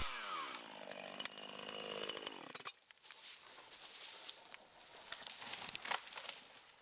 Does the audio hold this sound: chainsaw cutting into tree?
yes